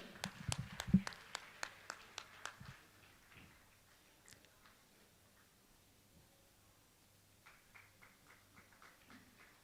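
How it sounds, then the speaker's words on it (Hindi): Scattered hand claps from an audience at a Jain religious gathering with Muni Pramansagar at Gunayatan, Shikharji, Jharkhand; sharp claps cluster early, then thin into sparse, faint taps with a low hum beneath. "ताली बजा के इनका सम्मान करें।"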